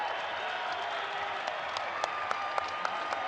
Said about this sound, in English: This crowd is on their feet. They are on their feet. Cheering these two women.